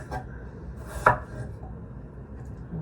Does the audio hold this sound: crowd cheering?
no